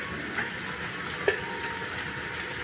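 Soybeans and a spoonful of Malvani masala hit a hot pan, giving a steady, fairly close sizzling hiss with one small clink partway through.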